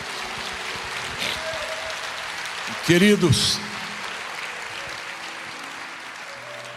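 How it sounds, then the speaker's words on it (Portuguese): A church congregation applauds together in a dense, sustained wash of clapping during a worship service, while a preacher's voice speaks briefly over the middle of it. "A igreja aplauda ao Senhor"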